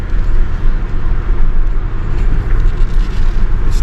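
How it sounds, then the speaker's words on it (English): Cars pass by on a road below a hillside property, heard as a steady, moderately loud low rumble of traffic that continues throughout with no talking. "I can see and probably hear the cars going by"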